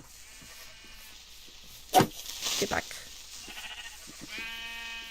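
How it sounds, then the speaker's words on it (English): Minecraft sheep bleating in the game world, a couple of short, fairly loud bleats under a player's talk, with soft background game music. "Thought I heard some noise there, but it's just the sheep."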